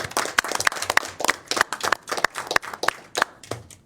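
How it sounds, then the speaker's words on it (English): A short round of applause from people in a transit board committee meeting room, a steady patter of claps at moderate distance with no talk over it. "probably deserving of a round of applause for everybody in the room"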